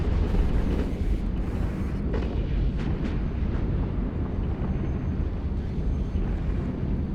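Weapons fire in the space game EVE Online makes a loud, continuous roaring rumble with a few sharp bursts flickering over it throughout, with no voices.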